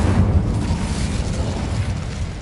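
An Incendio fire spell blasts in Hogwarts Legacy, a low rumbling burst of flame that roars continuously for a couple of seconds, loud and close with no voices.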